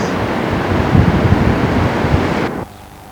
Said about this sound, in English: it's quite breezy and the